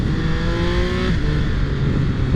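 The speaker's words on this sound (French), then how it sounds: "Et puis vous l'entendez, ce moteur hein, qui donne toute sa vie et sa vigueur à cette moto." A 2022 Triumph Speed Triple 1200 RR motorcycle engine revs loud and close, a rough, steady growl with a pitch shift midway as it pulls through the gears.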